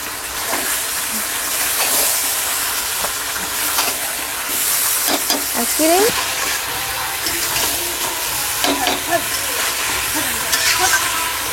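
Chopped tomatoes fry in a pan for chicken curry, a steady loud sizzle and hiss with clinks of utensils and someone talking over it.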